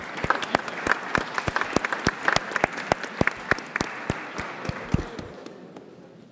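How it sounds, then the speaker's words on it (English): Audience at a business forum on growth in Africa applauds the final panel, with sharp distinct claps from a modest crowd that gradually thin out and fade. "We have a round of applause for our final panel of the day."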